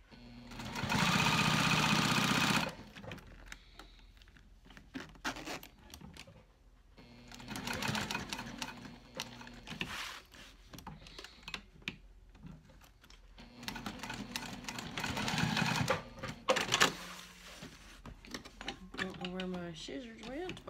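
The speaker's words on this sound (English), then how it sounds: "now we're gonna stitch around that remaining top edge here" A sewing machine stitches a backpack in loud, steady bursts of rapid stitching, stopping and starting several times, with a person talking quietly in the pauses.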